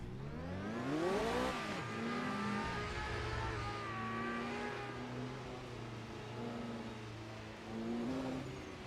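A Formula Drift race car engine revs hard with rising and falling whining pitch sweeps, loud and close, then settles into a steady droning note.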